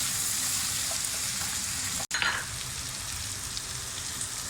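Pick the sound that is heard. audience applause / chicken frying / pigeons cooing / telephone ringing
chicken frying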